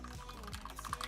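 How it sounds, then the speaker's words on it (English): Typing on a Madcatz STRIKE 6 budget 60% keyboard with red linear switches, a short quick run of close, crisp keystrokes bottoming out, clean and alone without talk. "The only sound you're hearing is from the key actually hitting the backboard at the end of the"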